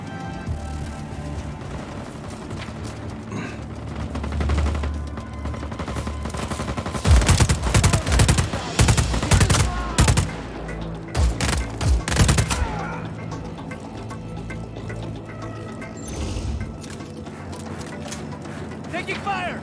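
Gunfire rattles through a firefight in the video game Just Cause 4: sporadic shots at first, then dense bursts of rapid machine-gun fire, then a return to scattered shots, all loud and close.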